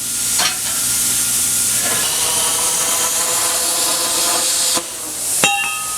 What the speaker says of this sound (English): this is that Harbor Freight plasma cutter. Telling you, it cuts like butter